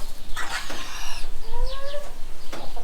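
A rooster on a dairy farm clucks close by, a few short throaty calls followed by a rising squawk, loud against quiet outdoor background with no one speaking.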